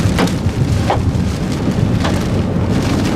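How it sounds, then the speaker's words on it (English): Heavy, steady pelting of hail and rain driven by strong wind in an Oklahoma City storm, a dense roar with scattered sharper impacts throughout. "The hail in this storm is not huge hail, but it's wind-driven hail."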